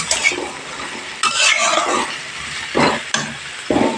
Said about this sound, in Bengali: পেঁয়াজ কলি আলু কড়াইশুটিটা একসাথেই দিয়ে দেবো দিয়ে ভাজতে থাকবে